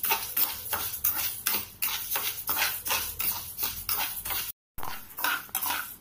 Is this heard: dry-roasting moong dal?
yes